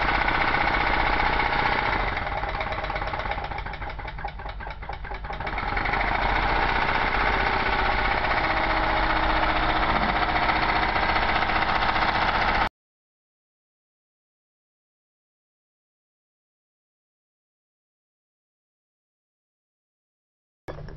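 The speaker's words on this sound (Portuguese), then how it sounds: "A aceleração do motor foi maior porque não houve mais o consumo de energia mecânica do motor por parte do gerador." A homemade Stirling engine runs with a continuous rattling, knocking drone that dips briefly in the middle, then cuts off abruptly into silence for the last few seconds.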